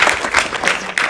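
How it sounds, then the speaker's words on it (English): Audience applause for conference participants at a closing session, a short burst of brisk clapping from a modest crowd, fairly close and even. "So maybe a round of applause for all of the participants."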